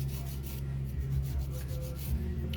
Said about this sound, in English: So I'm going in with the touch-up file